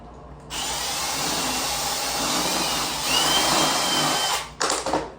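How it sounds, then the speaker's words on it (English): A power drill runs steadily at high speed for several seconds, rising slightly in pitch partway through, then stops with a few brief bursts, in a bathroom during installation of PVC base moulding at a vanity. "I need to drill this one more time"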